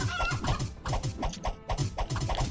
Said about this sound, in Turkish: Ya bir tavuk.